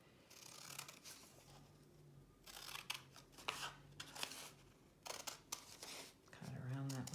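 Scissors snipping through paper during a preschool art lesson, a series of soft crisp cuts in short bursts, close and quiet, with a low hum underneath.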